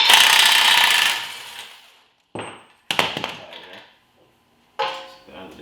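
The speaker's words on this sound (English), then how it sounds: "I'm gonna remove this axle nut." Work on the axle nut of a Honda Civic Si comes through as a few separate bursts of metallic grinding and rattling, with clanks and short gaps of near silence between them.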